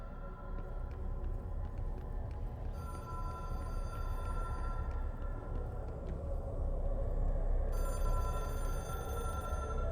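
A telephone rings in the Control video game, bright repeated bell-like tones sounding in two bursts over a loud, rumbling ambient background, with no speech.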